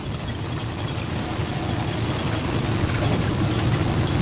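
Rain falls on a river during a fishing trip in the stormy season, a dense steady hiss that runs unbroken and fairly loud over a low rumbling wash.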